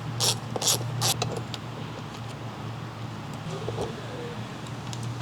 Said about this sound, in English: Remove this retaining bolt using the small ratcheting wrench and spinner handle